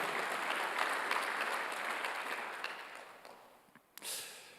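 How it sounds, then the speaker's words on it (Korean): A congregation at a Korean church Sunday worship service breaks into applause, a full crowd of clapping that gradually thins and fades, ending with a few scattered claps and a brief noise. "박수로 하나 주세요."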